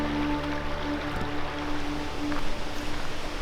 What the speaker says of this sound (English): The sound of water is the best therapy for me.